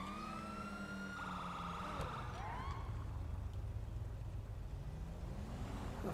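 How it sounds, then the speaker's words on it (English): A police car siren passes at a distance, faint wailing sweeps rising and falling over traffic rumble before fading into low road noise. "Why is there a random police car going?"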